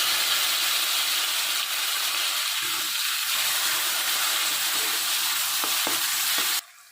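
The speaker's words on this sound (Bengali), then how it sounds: "তেলটা গরম হয়ে গেছে দিয়ে দেব গোটা জিরে একটা তেজপাতা দিয়ে দেব পেঁয়াজ বাটা" Whole cumin, a bay leaf and onion paste frying in hot oil, a loud, steady sizzle and hiss with faint stirring scrapes, running continuously until it cuts off abruptly near the end.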